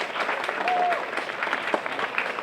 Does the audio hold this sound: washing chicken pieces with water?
no